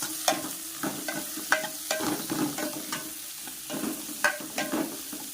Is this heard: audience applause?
no